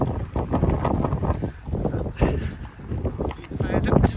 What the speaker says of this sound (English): It's been really windy.